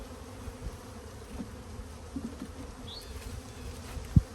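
A low, steady buzzing of honeybees from a package hums close by as they are brushed aside at a hive, with a few soft knocks and a sharp thump near the end.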